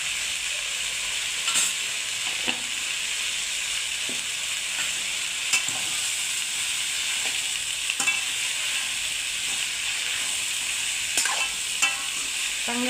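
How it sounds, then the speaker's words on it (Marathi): Vegetables fry in oil with dry masala, a steady broadband sizzle running throughout, broken by occasional scrapes and clinks of stirring. "आधी त्या ह्या मसाल्यातच भाज्या फ्राय करून घ्यायची आधी सगळ्या"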